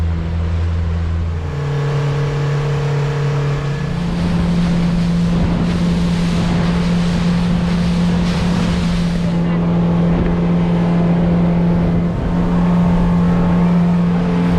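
A boat engine drones steadily on a trip back to Marsascala, Malta, a loud, constant hum that shifts up in pitch early on, mixed with rushing wind and water noise.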